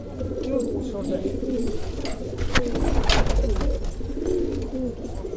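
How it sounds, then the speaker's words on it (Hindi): A flock of Patiala pigeons keeps up a steady close cooing, with a brief louder rustle or flutter partway through and a voice faintly mixed in. "पटियाली कबूतरी है"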